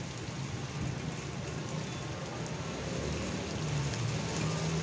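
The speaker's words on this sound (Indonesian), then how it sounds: "hujan beneran teman-teman." Steady rain hisses down on a third-floor rooftop vegetable garden on a windy day, a dense, even wash of sound with no voices.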